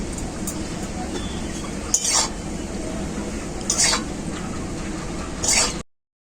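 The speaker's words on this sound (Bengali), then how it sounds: "ভালো করে আদাটাকে সবজির সাথে কষিয়ে নিয়েছি।" Ginger paste and bottle gourd greens are stir-fried in a pan with little oil, producing a constant low frying hiss broken by three distinct metallic clinks of a spatula against the pan before the sound cuts off.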